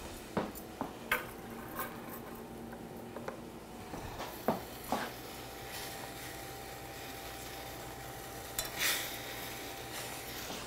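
Bananas cooking in a pan of melted sugar give a faint, quiet sizzle under scattered light clinks and knocks of utensils against the pan.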